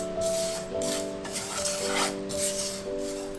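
Roasted coconut and asafoetida being stirred in a pan, a steady scraping rustle that rises and falls in repeated strokes, over a faint steady hum.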